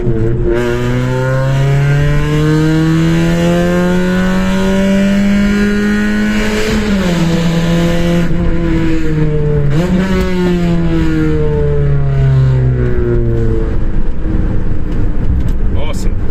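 A Suzuki Wagon R+ engine revs hard through a loud sport exhaust, climbing and dropping in pitch repeatedly with a deep, rumbling roar throughout.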